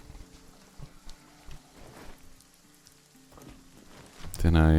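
Rain falling in the survival game RuneScape: Dragonwilds, a steady soft patter across the whole stretch, with scattered louder drops and a burst of heavier sound at the very end.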